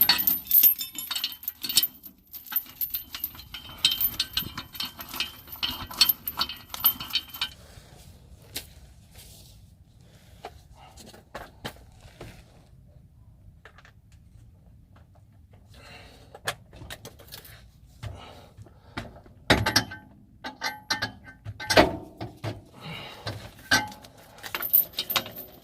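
A metal chain is pulled through a motorhome wheel during a tire change, heard as scattered close clinks, rattles and metallic clatter between quieter stretches.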